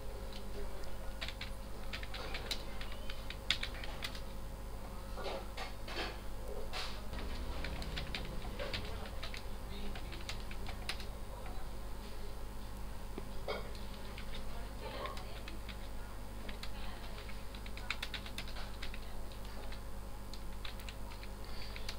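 Rapid, irregular clicking of keys being typed on a keyboard continues throughout, soft and close over a low steady hum.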